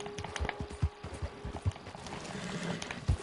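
A horse in the Western game Red Dead, with hooves clip-clopping in an irregular rhythm at close range amid light in-game ambience.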